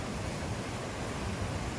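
Steady, loud rushing of the Niagara River rapids near the whirlpool below Niagara Falls, a continuous broadband roar of churning water with no break and no voices.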